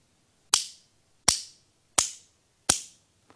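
Four sharp, evenly spaced drum hits from a drummer playing with two sticks held backwards, each crack trailing off quickly like a delay echo; close and loud, with no talking.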